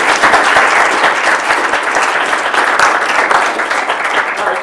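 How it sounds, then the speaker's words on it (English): A school board meeting audience gives a sustained round of applause, thick and steady clapping throughout with no voices over it. "Let's give her another round of applause."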